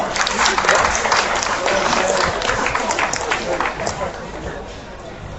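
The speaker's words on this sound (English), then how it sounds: "give all these exhibitors out here in this class a nice big round of applause" Sustained applause and crowd noise for youth exhibitors with their market hogs in a livestock show class, a steady dense wash of clapping mixed with murmuring voices that slowly eases off toward the end.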